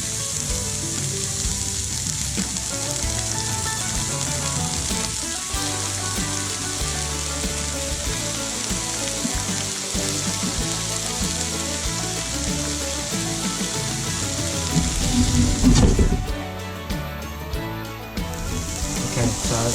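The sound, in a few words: onions frying and sizzling in a hot pan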